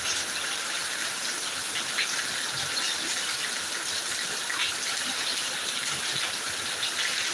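Heavy monsoon-style rain falls in Thiruvananthapuram, a constant close-up rushing hiss of drops striking the ground and roofs, with small irregular splatters flickering through the steady downpour and no one talking.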